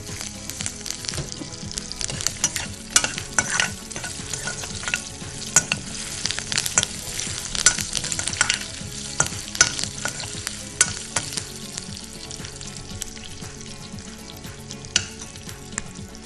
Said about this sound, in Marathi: आणि हा मसाला छानपैकी भाजून घ्यायचा आहे.